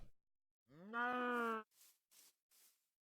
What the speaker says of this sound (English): And we got a lava cow. We don't want a lava cow